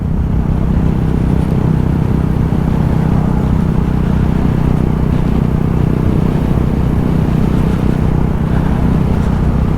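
KTM 390 Duke single-cylinder motorcycle cruising in sixth gear at about 4,000 RPM, a constant dense engine hum mixed with wind rush, loud and unbroken throughout with no talking.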